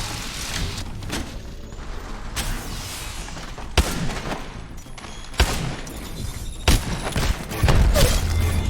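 Shotgun blasts ring out in the Apex Legends Mobile video game as a few sharp, punchy reports over a constant busy background of game battle noise.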